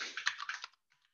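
Quick bursts of typing on a computer keyboard during an online meeting, a rapid cluster of close clicks for about two-thirds of a second, then a few faint scattered taps before silence.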